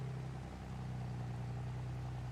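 A John Deere tractor engine drones steadily at a low, labored pitch while bogging down climbing a hill, a continuous strained rumble with no voices.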